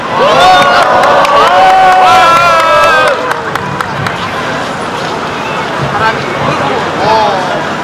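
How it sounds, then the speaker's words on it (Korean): A crowd at an outdoor candlelight citizens' rally in Incheon cheers loudly, with many voices shouting together over the first few seconds before settling into a steadier, lower murmur of babble. "모두 함께 큰 박수로 맞이해 주시기 바랍니다."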